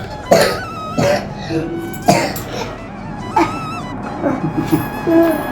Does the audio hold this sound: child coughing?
yes